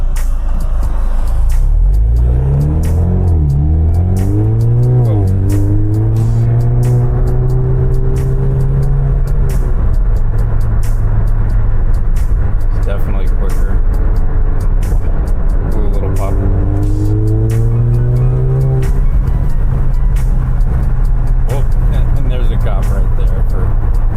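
A stage 2 tuned Alfa Romeo Giulia 2.0T accelerates hard twice, its engine note climbing through a gear change each time before settling into a steady drone, with constant road and wind noise throughout.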